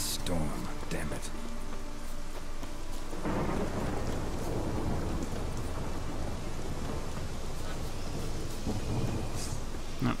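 A video game thunderstorm brings steady heavy rain and low rolling thunder. It runs continuously and loudly throughout, while someone talks over it.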